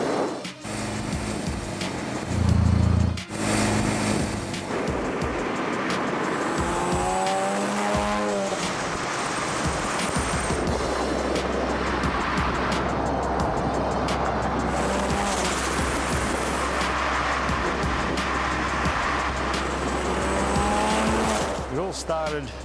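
A Mazda RX-7 sports car drives past loudly with a sustained engine roar and tire squeal, and the engine note rises and falls over a steady low rumble, alone without talk.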